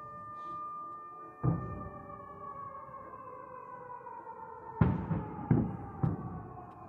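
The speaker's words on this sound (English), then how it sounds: "We hear the explosions in the distance." Dull booming explosions in Sevastopol thud several times in the distance under a steady, droning siren wail, one early and a cluster of three close together toward the end.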